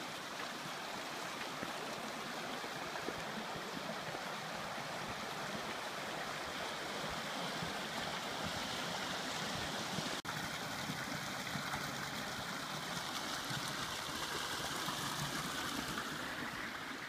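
Verkin Creek in the valley of Zion National Park flows in a steady, continuous broadband rush of water, close and even throughout with no voices.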